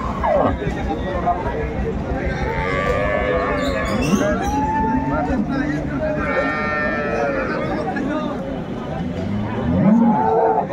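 Dairy cows and calves moo repeatedly at a cattle market, long low calls overlapping amid a noisy crowd of people talking nearby.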